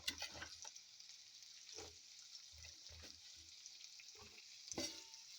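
Native garlic scapes stir-frying in a pan over low heat, a faint steady sizzle broken by irregular scraping and tossing strokes of a spatula, close but quiet.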